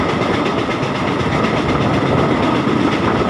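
A train rolls along the rails at Khao Phanom Phaeng station as it switches onto the main track, a loud, steady rumble with rapid clickety-clack under constant wheel and carriage noise, heard close and continuous.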